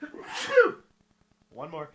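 A single sharp sneeze bursts out close to the microphone, followed after a short pause by a brief spoken phrase.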